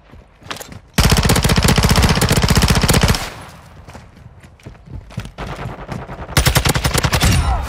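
Loud sustained automatic gunfire from Call of Duty: Modern Warfare 2, a dense continuous burst followed by scattered shots and another rapid burst near the end.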